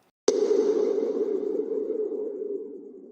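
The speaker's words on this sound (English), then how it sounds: "the sound of plucking the leaf from the tree right near the start" A designed sound built from plucking a leaf off a tree: a sharp snap gives way to a sustained, resonant tone that hangs steady and slowly fades over about three seconds, with nothing else around it.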